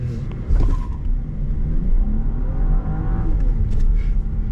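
A 2024 BMW 740i sedan with soft suspension pulls away in second gear on a flat road, engine note rising steadily from inside the cabin, moderate in volume with a brief bump near the start.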